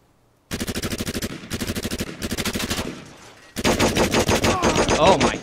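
Automatic gunfire in the game Last Man Standing rattles out in three rapid bursts, a short pause, then a longer, louder sustained burst, close and punchy with no talk.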